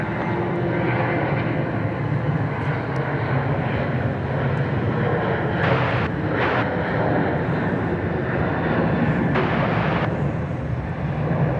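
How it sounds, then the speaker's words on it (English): Jet airliners taking off northbound at Dallas Love Field, a steady loud engine roar filling the whole stretch with a few brief higher whooshes, heard from an outdoor spotting position with no talk. "the planes are taking off towards the north"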